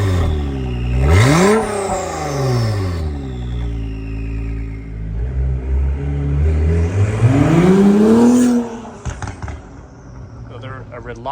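A powerful car engine revs hard twice, each rising to a roaring peak and falling away, loud and close, then settles into a lower rumble.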